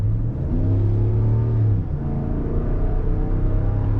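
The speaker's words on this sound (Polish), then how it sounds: "Tutaj jest seryjny wydech, więc on nie jest jakoś bardzo głośny, ale bardzo pięknie on brzmi." Low, smooth engine rumble from a RAM 1500 pickup truck, a moderately quiet stock exhaust that revs up briefly and then settles into a steady drone.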